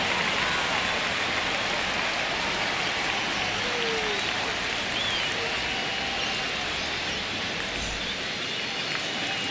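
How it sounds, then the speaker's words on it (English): Stadium crowd in the baseball video game MLB The Show, a dense, steady roar of cheering and applause with no breaks, loud and continuous throughout. "The crowd is amped up, ready to get this season underway"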